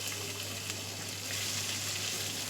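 Potatoes fry in hot oil with cumin and bay leaf, giving a steady, soft sizzle that continues evenly throughout.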